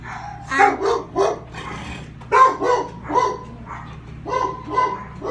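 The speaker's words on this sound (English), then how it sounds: "They're totally barking because I said hi to you." Several dogs bark in short, repeated bursts, fairly close, with a steady low hum underneath.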